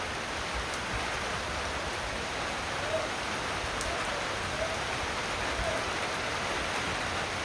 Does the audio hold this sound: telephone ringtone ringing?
no